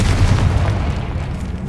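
Confringo explosion spell bursting in Hogwarts Legacy, a loud, sustained low rumbling boom that fills the whole moment without any voice.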